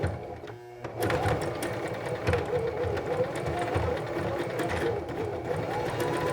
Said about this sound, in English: we are just sewing along with the edge of the presser foot right along the center seam